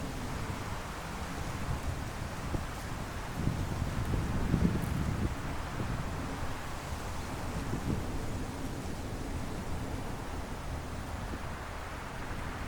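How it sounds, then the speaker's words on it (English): Wind rushing steadily through autumn silver birch leaves in the Caucasus, a soft continuous hiss and rustle with gentle swells, heard alone. "The sound of the wind rushes through their leaves."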